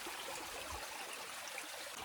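Water trickles steadily from a pipe set into a spring, a soft, continuous burbling stream heard faintly and alone.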